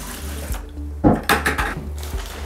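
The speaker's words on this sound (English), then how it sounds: "You always want to put a little water first so it doesn't clump up at the bottom of the bucket." Water running from a tap into a bucket for mixing porcelain tile thin-set mortar, loud splashing bursts after a low hum, close up with no speech.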